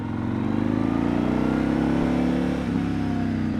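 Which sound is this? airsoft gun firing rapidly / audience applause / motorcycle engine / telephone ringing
motorcycle engine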